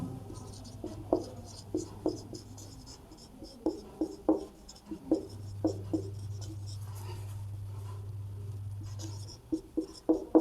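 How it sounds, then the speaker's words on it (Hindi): Pen or chalk strokes write a maths formula on a board in a class 12 lesson, a series of close, sharp scratching taps in irregular bursts over a low steady hum. "इसका सूत्र मैं एक्स वाई के रूप में लिख देता हूं"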